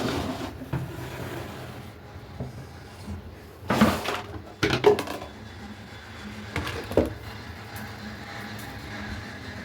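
Washed pots and dishes set down on a floor to dry, with a few sharp metallic clatters and knocks spaced out over steady low background noise.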